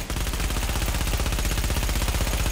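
Rapid automatic gunfire from Tom Clancy's The Division, a steady loud stream of close shots with an even, fast rhythm and no pauses for reloading.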